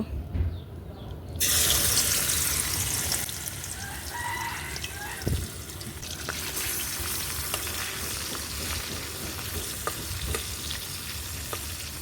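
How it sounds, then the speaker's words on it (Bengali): Marinated chicken liver goes into hot soybean oil for chicken liver bharta, setting off a sudden loud burst of sizzling that settles into a steady, close crackling fry with an occasional clink, and no talking. "তেলটা গরম হয়ে গেছে এখন এই যে মেখে রাখা কলিজাগুলো দিয়ে দিব"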